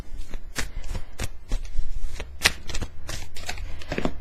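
Fairy Tarot deck cards being shuffled by hand, a run of crisp riffling and slapping bursts in an uneven rhythm, close and fairly loud with no talking.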